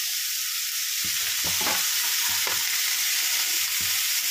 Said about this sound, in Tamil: ஹை ஃப்ளேம்லேயே வச்சுட்டு நல்லா வதக்கிட்டே இருங்க